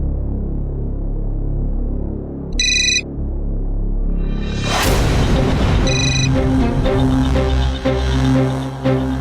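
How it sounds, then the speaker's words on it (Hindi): A mobile phone rings in short bursts of bright electronic ringtone, heard twice, around a sudden booming swell of dramatic music, with no talking. "वीरू बस एक बार मेरा फोन उठा ले यार"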